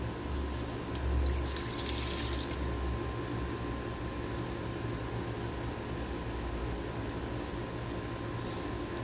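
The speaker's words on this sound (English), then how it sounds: "If you're making a lot, I would suggest pouring a lot of water." Water running from a tap while making dinner bun dough, a steady close hiss of flowing water with a brief brighter splash near the start, continuous for several seconds.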